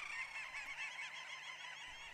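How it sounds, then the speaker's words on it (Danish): A dense colony of little auks, the world's smallest auk, calling around Svalbard, a continuous chatter of many high, overlapping trilling cries from nearby birds with no speech. "Søkongen er den mindste algefugl i verden."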